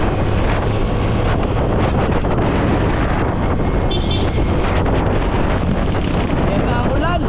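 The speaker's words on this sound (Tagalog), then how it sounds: "Dito malakas ang hangin." Strong wind buffets the microphone outdoors ahead of rain, making a loud, constant broadband roar that fills the whole stretch without letup.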